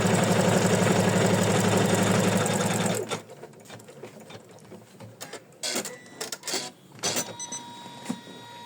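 An embroidery sewing machine stitches an in-the-hoop tulip heart design, making a loud, steady, rapid mechanical whir for about three seconds before stopping. Scattered clicks and handling noises follow.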